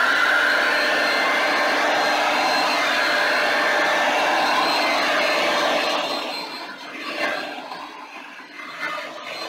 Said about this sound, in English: turning on the hair dryer again